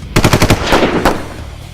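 A rapid burst of gunshots, five or six sharp cracks in quick succession, then a couple more spaced shots echoing loudly.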